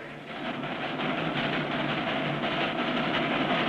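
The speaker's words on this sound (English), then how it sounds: "Why not take the train? She's got up steam." Cartoon steam train from 1959 running steadily, a continuous loud chugging rumble with a rhythmic clatter of rolling wheels, close and unbroken, with no voices.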